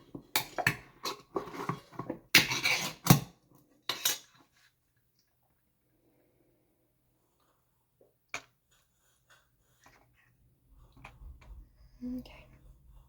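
A spoon scraping and clinking against a dish while food for feeding is scooped and mixed, in a dense burst of close metallic taps followed by a long quiet gap and a few faint later clicks, with low voices now and then.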